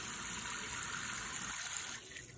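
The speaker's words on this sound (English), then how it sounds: "Now I'm gonna let the sink fill up" Lukewarm water gushes from a tap into a sink, a steady, fairly loud rush that drops off slightly in the last moments, with no talking.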